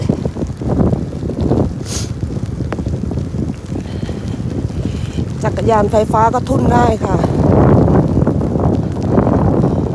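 Wind buffets the microphone while riding an electric bicycle to work on a rainy day, a constant low rumble with gusts under someone talking.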